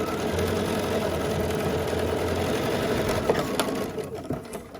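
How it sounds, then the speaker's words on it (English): A sewing machine sews quilt block seams together with a continuous close, even mechanical whirr that fades slightly toward the end. "So we're going to sew this together."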